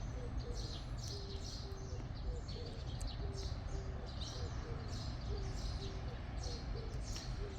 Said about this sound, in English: It's a live bird, not attached to something human made.